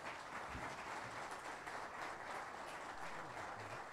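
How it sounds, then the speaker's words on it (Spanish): Steady applause from a conference audience sending off a departing doctor after his lecture, a soft, even wash of clapping that fills the whole stretch at low level. "Vamos a despedir al doctor con un fuerte aplauso."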